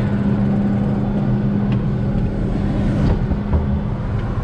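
Case IH Magnum 260 heavy field tractor running steadily while hauling haylage bales, a loud continuous low engine hum with faint rattles and clicks, no voices.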